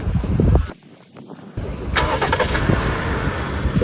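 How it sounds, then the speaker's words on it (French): A 2019 Dodge Durango GT starts by remote, with a brief burst of cranking, a short hush, then the engine firing and settling into a steady idle close by. "Vous voyez, le véhicule a démarré."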